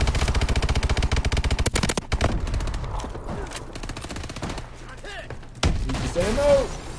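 Goliath exosuit in Call of Duty Advanced Warfare fires loud, rapid, evenly spaced bursts for about two seconds, then sporadic heavy shots and thuds with someone talking over them.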